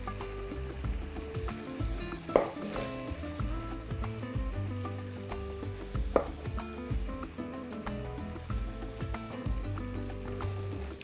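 Large cauliflower pieces fry in a pan with a soft, constant sizzle, broken by repeated knocks and scrapes of a utensil as they are stirred and pressed smaller, close by and without speech.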